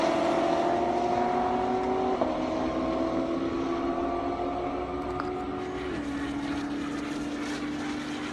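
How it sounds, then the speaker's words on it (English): Porsche Turbo S and Corvette Z06 drag racing on an airstrip, heard as a steady high-speed engine roar with shifting tones that hold loud throughout, close to the track. "Right now we got John Vanelek in the Turbo S up against Richard Lacoste in that Z06."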